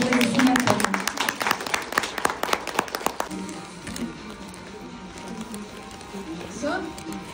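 Brisk applause from a conference audience in Tyumen sending off award nominees, dense clapping for about three seconds before it fades, with voices talking over the quieter stretch.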